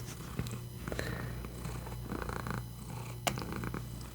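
A cat purrs steadily while being petted, a low continuous rumble heard up close and quiet, with faint rustling and a soft click.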